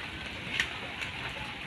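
Faint, steady rain falling around a half-dismantled shed or storage hut, a soft continuous hiss with a couple of slightly sharper drops, with no voices.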